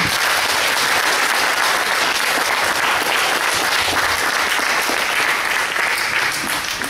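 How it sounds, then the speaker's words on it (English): Sustained audience applause at an anti-racism summit, loud dense clapping from a large crowd that continues steadily throughout. "Can we just have another round of applause?"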